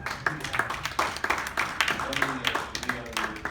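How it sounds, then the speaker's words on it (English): Audience applause for a panel at an economic summit: scattered hand claps run through the whole stretch, moderately loud and mixed with murmuring voices and talk. "If I could get a little bit of applause for our panel"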